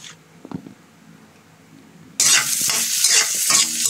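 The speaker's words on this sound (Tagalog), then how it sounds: "nagisa na siya ng sibuyas at bawang" Onion and garlic sauté in hot oil in a pan, ahead of cooking shrimp in Sprite; after a quiet start, a loud, steady sizzle breaks in suddenly and carries on with a few stirring scrapes, no talk.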